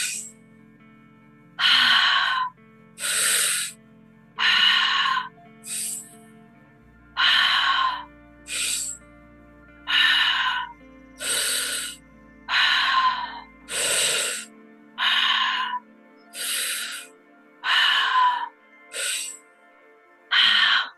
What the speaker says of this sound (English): shift that breathing in through the mouth, out through the mouth, deep into the belly